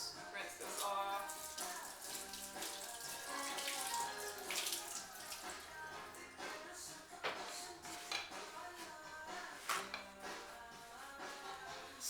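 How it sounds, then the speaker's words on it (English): Tap water running steadily over a utensil being rinsed in a kitchen sink, with light clinks against the basin throughout. "let me just rinse this off"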